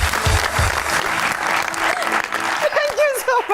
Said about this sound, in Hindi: आज मुझे एक दफा फिर आपसे रिक्वेस्ट करनी होगी अनुषे के लिए तालियां।